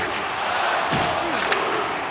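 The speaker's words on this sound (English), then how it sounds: "You can feel the energy in this crowd." In the NHL 26 hockey video game, a dense arena crowd roars steadily through a tied period of Blues versus Capitals, with a couple of sharp thuds from the rink cutting through the noise.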